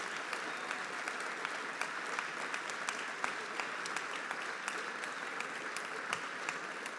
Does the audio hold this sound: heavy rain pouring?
no